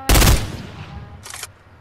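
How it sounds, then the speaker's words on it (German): A loud, sharp gunshot in the video game Fortnite bursts out at the start, followed by a second, thinner crack about a second later, with a fading echo in between. "Zwei Schüsse."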